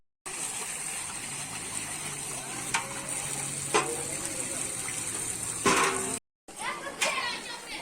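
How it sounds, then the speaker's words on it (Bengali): Water running steadily from the single village tap, a continuous hissing gush with a few knocks of a container, while people talk nearby. "এত বড় গ্রামে এই একটাই কল চলো এখান থেকে জলটা নিয়ে যেতে হবে"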